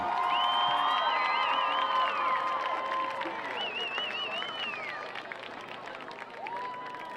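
A high school football crowd at Pontiac versus Farmington cheers and whoops for the Falcon cheer team, loud and busy at first with music playing, then thinning out toward the end.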